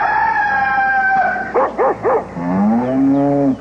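Strange, warbling animal-like cries: a sustained wavering call, a few quick pulsing yelps, then a long descending groan, loud and close.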